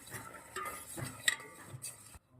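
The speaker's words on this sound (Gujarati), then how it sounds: "સાથે જ આપણે પિસ્તા કૂટેલા નાખી દઈશું અને મસ્ત મજાનું મિક્સ કરી લેશું।" A spoon stirs crushed pistachios and food colouring through milk thickened for pistachio kulfi, with scraping and a few clinks against the pot, close and moderately quiet, ending abruptly.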